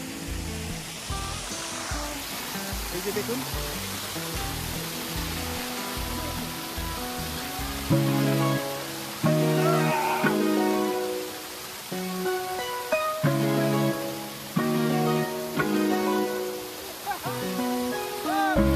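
Sahastradhara waterfall in Dehradun, Uttarakhand, gives a constant rushing roar of falling water close by. A person talks over it for much of the time.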